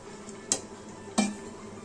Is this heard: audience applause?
no